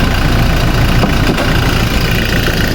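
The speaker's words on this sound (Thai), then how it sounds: "เนี่ยพักเดิมๆเครื่องยนต์เดินนิ่ง ๆแห้ง ๆ" The stock engine of a lifted automatic Hi-Lander pickup truck idles smoothly up close. It gives a steady, even hum and rumble with no revving, and no one talks over it.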